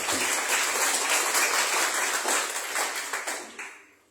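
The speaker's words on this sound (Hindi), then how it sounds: "जोरदार तालियां बजा दें" Church congregation applauding at a gathering, a dense wash of many hands clapping steadily at close range, thinning out and fading over the last second.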